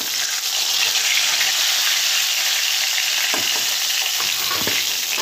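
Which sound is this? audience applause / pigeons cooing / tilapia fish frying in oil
tilapia fish frying in oil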